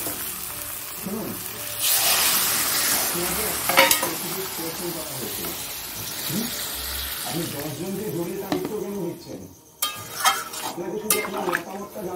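Potato curry (aloo dum) frying in a pan as water is poured in, a loud hiss and sizzle with repeated spoon stirring and pot scrapes, a voice talking now and then over the cooking.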